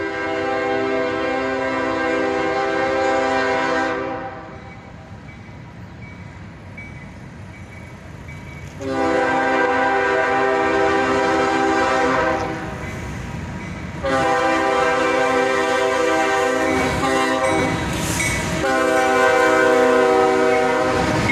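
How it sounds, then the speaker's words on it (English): A CSX southbound manifest freight train led by ES40DC and ES44AC locomotives sounds its horn loudly in long chord blasts, three main sustained blows separated by pauses. Rumbling rail noise runs continuously underneath. "A southbound manifest train, led by an ES40DC and an ES44AC."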